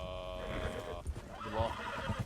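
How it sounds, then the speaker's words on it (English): Horses neigh and whinny in Red Dead Redemption 2, a long drawn-out whinny followed by hoof thuds and a second shorter neigh, with some voice in the background. "Hey, horses coming. A lot of them."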